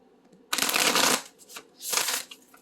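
A deck of self-care oracle cards is shuffled in two loud bursts of riffling, the first about a second long and the second shorter, with quiet pauses and no talking.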